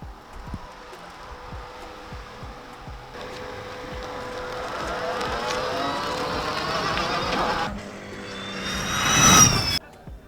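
An electric Hypercraft Sierra race car on a shakedown run at the Utah Motorsports Campus gives a rising whine that builds, shifts pitch and swells to a loud close pass near the end, with a faint voice early on.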